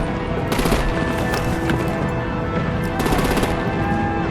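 Heavy gunfire erupts in the Batman: The Enemy Within video game, as artillery opens up on vehicles. Dense, rapid bursts of shots run continuously and loudly, with harder volleys at the start and near the end.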